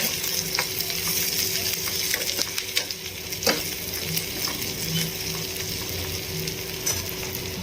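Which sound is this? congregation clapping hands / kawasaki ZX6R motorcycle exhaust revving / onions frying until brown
onions frying until brown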